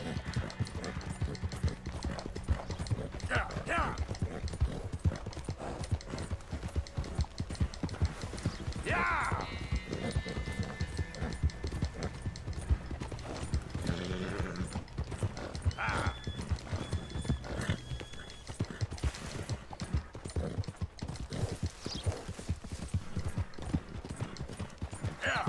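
Horse being ridden in the video game Red Dead Redemption 2, a steady rhythmic clip-clop of hooves running throughout with occasional whinnies, while a person talks over it at length.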